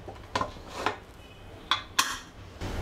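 A metal pressure cooker lid is handled and set in place in a kitchen while ragda is being cooked, giving a few sharp, close clanks and clinks spread across a quiet background.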